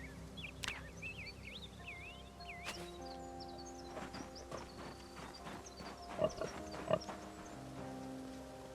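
In the Project Zomboid video game, a pig on a farm gives several soft grunts amid faint background farm ambience and scattered small sounds, with two slightly louder grunts near the end.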